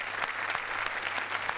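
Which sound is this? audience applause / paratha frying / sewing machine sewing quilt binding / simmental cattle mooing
audience applause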